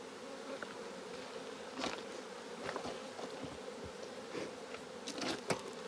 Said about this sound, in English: Just take those bees off.